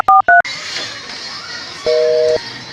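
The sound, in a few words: telephone being dialed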